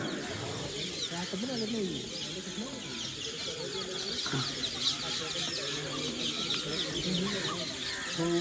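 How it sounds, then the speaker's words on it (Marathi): Many parrots screech and chatter from peepal trees in the evening, a busy chorus of shrill calls, with people talking underneath. "भरपूर आहे पोपटांचा आवाज आहे का हा"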